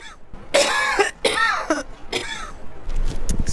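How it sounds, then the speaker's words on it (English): A person coughs and clears their throat several times in bursts, close and fairly loud, outdoors by a stretch of the River Thames in London. "I've got a bit of a cough today."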